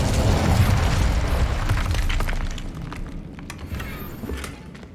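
Incendio fire spell cast in Hogwarts Legacy: a loud whooshing burst of flame with a deep booming rumble that swells, then fades into crackling and lighter debris-like ticks.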